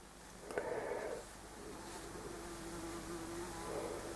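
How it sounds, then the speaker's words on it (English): A fly buzzes around indoors, its faint wavering hum drifting nearer and farther, rising and falling over a quiet background. "we've got a fly buzzing around"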